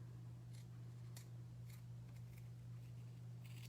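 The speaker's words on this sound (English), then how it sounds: "These scissors are nice, but I gotta get used to not having like a hole to put my fingers in." Scissors with no finger holes snip paper or craft material for a light-up Valentine gnome, giving six or seven soft, quick cuts at an uneven pace, close by and faint over a steady electrical hum.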